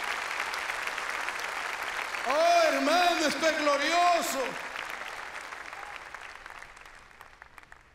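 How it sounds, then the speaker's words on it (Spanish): A church congregation claps along during a Sunday Spanish-language sermon, a dense burst of applause lasting about two seconds, loud and close, with a preacher's voice calling out over it. "Dele palmas al Señor de la gloria."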